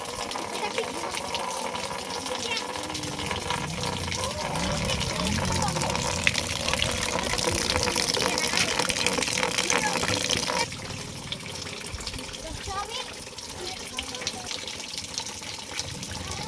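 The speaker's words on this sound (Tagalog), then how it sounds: "balik ulan na gyud kusog na gyud" Heavy rain pours onto a roof in a loud, steady wash that eases slightly partway through, with voices talking under the downpour.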